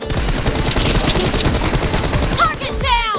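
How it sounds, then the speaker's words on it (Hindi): Rapid automatic gunfire rattles close and loud in a shooter game team deathmatch, a steady burst of shots running almost the whole time before a brief electronic chirp at the end. "गोली चल रही है"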